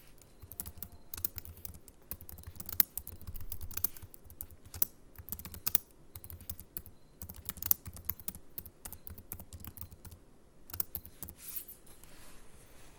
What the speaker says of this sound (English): I'm going to type in the following command.